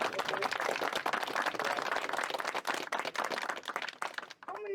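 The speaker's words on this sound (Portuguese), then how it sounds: "o Gregory Kitzer, para quem eu peço uma salva de palmas" Audience applause fills the whole stretch after a call for a round of applause at a cultural heritage event in Ibirama, a dense steady clapping crowd that thins slightly near the end.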